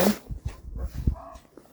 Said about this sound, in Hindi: ये बार्किंग डियर की आवाज है।